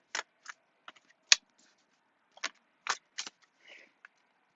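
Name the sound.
shuffling oracle cards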